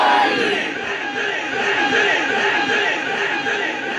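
A crowd at a milad naat gathering shouts back in unison in reply to religious slogans, a loud, dense mass of voices that swells and holds throughout.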